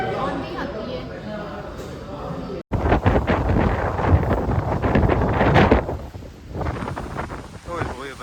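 Very strong storm wind buffets an outdoor microphone in loud, roaring gusts, with a brief dropout partway through, while people speak over it.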